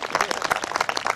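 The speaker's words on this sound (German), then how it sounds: "von Björn gegeben, der dafür auf jeden Fall einen riesengroßen Applaus für euch kriegen muss" A brief burst of applause, many hands clapping in a dense, even patter from a crowd at an outdoor vigil rally.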